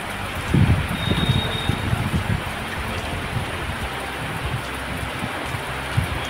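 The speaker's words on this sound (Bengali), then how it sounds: "প্রচণ্ড বৃষ্টি হচ্ছে, প্রচণ্ড বৃষ্টি হচ্ছে, একটু বেশি বৃষ্টি বেড়ে গেছে।" Heavy rain pours steadily at a deserted railway station, a dense, loud, unbroken hiss with scattered nearby drips and splashes throughout.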